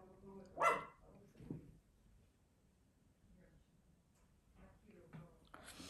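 A dog lets out one sharp bark early on, followed by a few softer sounds in a quiet indoor room, with a voice talking faintly nearby.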